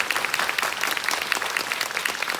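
Theatre audience applauds the cast and staff at a Korean film screening and talk for the movie Muddo Silmugwan: dense, continuous clapping from many hands, loud and even throughout with no talk.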